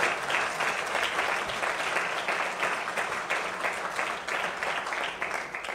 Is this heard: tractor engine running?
no